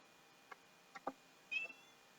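A cat meows several times, short faint calls spaced apart and then a longer, louder meow near the end, set against quiet room tone.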